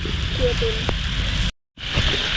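Steady rain falls during a nighttime frog hunt in rural northeastern Thailand rice fields, a dense continuous hiss broken by one brief dropout, with a voice talking over it.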